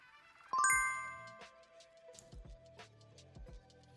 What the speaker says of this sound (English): that sound you heard was a notification on the Hive network